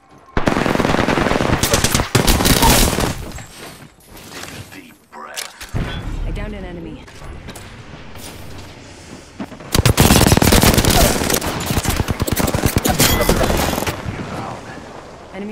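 Loud bursts of rapid automatic gunfire from the video game Apex Legends, coming in two long volleys with quieter stretches, a voice speaking between them.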